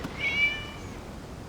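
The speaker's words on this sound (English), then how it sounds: "It was just a cat." A single short cat meow from the video game Genshin Impact, faint and thin, over low background ambience with no talking.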